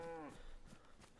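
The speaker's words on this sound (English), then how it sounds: "We got some cows here." A cow in the DayZ video game gives one short, quiet moo at the start, followed by faint ambient game noise.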